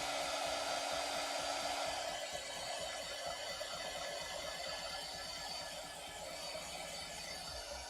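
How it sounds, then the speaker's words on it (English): A heat gun blows a steady, loud whooshing whine over paper wet with watercolor paint. The airflow drops slightly partway through but runs continuously for the whole stretch. "So using the heat gun, I like to dry it in between."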